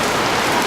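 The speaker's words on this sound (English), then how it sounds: "All of a sudden, it is just downpouring. The rain is coming down." Heavy rain pouring down on a hut during a sudden downpour in Ethiopia, a dense, steady hiss of drops drumming on surfaces, loud and unbroken.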